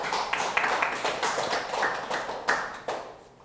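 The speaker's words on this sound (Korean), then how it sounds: "하나님께 영광의 박수로" A church congregation at Sunday worship claps together, a close run of fairly even rhythmic claps that fade toward the end, with no one speaking.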